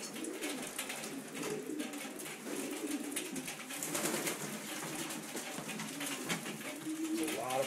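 Racing pigeons coo continuously in a loft, the soft, low, overlapping calls at moderate distance, with faint rustling and a few quiet background noises.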